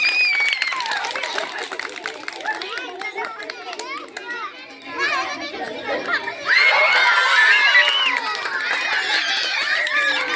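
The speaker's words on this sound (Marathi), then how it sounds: "चला सर्वांनी टाळ्या वाजा प्रेक्षकांनी." An audience of children at a concentration game competition claps, shouts and cheers in a loud, busy burst that swells toward the end, with excited kids' voices throughout.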